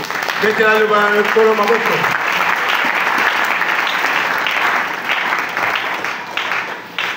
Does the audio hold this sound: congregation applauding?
yes